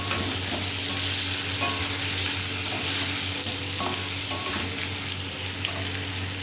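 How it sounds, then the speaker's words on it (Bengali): Drumstick pieces (sajne data) frying in a pan, a steady loud crackling sizzle with occasional scrapes and knocks of stirring, no voices. "সজনে ডাঁটাটা ভাজা হয়ে এসছে"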